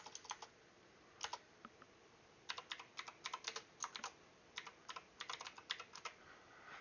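Close, quiet clacking of a mechanical keyboard, keystrokes coming in uneven rapid runs separated by short gaps, steady typing with no voices.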